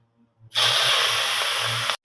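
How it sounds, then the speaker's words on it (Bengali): Prawns dropped into hot oil burst into a loud, steady sizzling hiss that starts abruptly and holds for about a second and a half before cutting off, with no talk over it. "এই তেলের মধ্যে আমি চিংড়ি মাছগুলো দিয়ে দেবো,"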